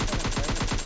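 Rapid automatic gunfire in PUBG Mobile Lite: a dense, steady burst of evenly spaced shots, loud and close, that lasts under a second with no voices over it.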